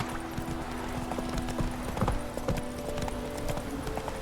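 Horse hooves clip-clop at a steady walking rhythm in The Witcher 3: Wild Hunt video game, close and fairly soft, with the faint tones of game music underneath.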